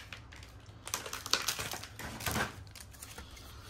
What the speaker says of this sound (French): On va les ouvrir au ciseau à l'ancienne